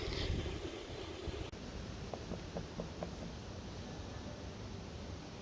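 Wind rushes steadily past during a cold, rainy solo ride on a Honda Africa Twin motorcycle, a faint constant broadband roar with a few light ticks and no talking.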